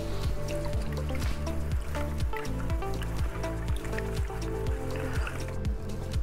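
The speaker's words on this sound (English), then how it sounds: "I will start by washing its roots in warm water to remove as much soil as possible" Fern roots are swished and rinsed in warm water to wash off soil, producing close, continuous splashing and dripping with small repeated sloshes and trickles throughout.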